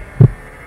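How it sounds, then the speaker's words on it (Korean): A heartbeat sound effect gives a single loud, deep, muffled thump that fades quickly into quiet. "심장 소리 그만."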